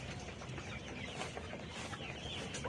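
Pullet chickens around 80 to 100 days old cluck on a poultry farm, a dense, faint wash of overlapping clucks and farmyard noise.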